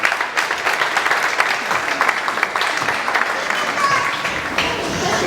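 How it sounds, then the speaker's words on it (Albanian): Applause for Laura fills a school event at an Albanian school in the Bronx: a steady, dense wash of clapping from a crowd that lasts the whole stretch, with voices mixed in. "Një duartrokitje për Laurën."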